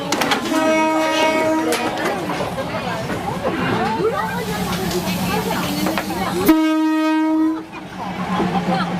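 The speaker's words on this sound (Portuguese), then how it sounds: "Quando o trem se aproxima, os vendedores recolhem suas tendas." A train rolls slowly through a busy street market, its horn blaring in long tonal blasts near the start and again later, over rumbling wheels and crowd chatter.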